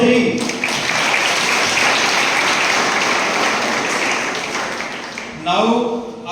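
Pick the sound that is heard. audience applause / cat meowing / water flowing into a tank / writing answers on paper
audience applause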